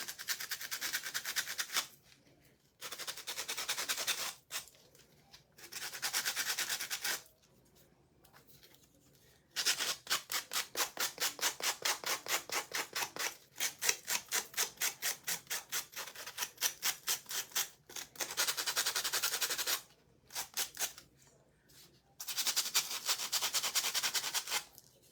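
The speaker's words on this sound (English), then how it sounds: "Now I'm just going to sand the edges just to get the little overhang off." Sandpaper scrapes along the edges of a wooden snowman piece from a craft kit, close rasping strokes in bursts of a few seconds separated by short pauses, some passages fast and rhythmic, with no talking.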